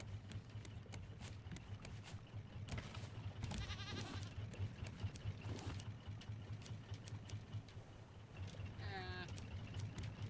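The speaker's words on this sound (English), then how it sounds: "One of our goats is missing then." Goats bleat in a rafting survival video game, a few short wavering calls rising above steady game ambience and a low continuous hum, with someone talking throughout.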